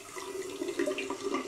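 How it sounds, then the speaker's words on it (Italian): Water runs from a tap into a sink during a shave, a short steady splashing flow heard close and alone. "Aggiungiamo un po' d'acqua"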